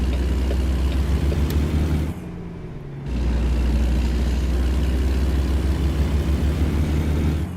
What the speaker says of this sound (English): Oh, the sound of the engine, man, it's so